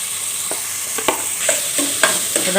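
Potato and carrot pieces sizzle in a hot pan of curry base, a steady frying hiss broken by several sharp scraping clicks as a spoon stirs them; no one talks.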